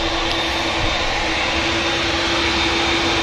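A TUI Boeing Dreamliner jet taxiing at Manchester Airport gives a steady, loud, broadband engine roar with a constant high whine running through it, unbroken for the whole stretch and with no voices.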